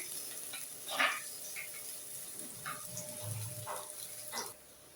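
Soft sizzling and light clatter of onions frying in a pan for a squid masala, with scattered stirring scrapes; fairly quiet, no voices.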